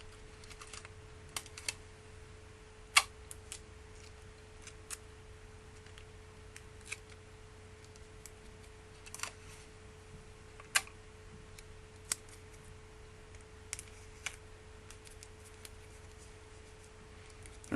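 Scissors snip excess Scotch tape in a quiet workshop, a handful of sharp, isolated clicks and cuts spaced irregularly over a faint steady hum.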